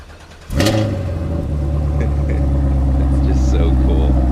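A 2016 Cadillac CTS-V engine, started by remote, turns over and catches at once, then settles into a steady, loud rumbling idle with a faint beep near the end.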